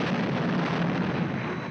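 An explosion special effect from a Supermarionation puppet show sounds as a loud, sustained rumbling blast that fills the whole short moment.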